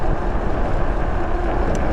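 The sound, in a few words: wind blowing outdoors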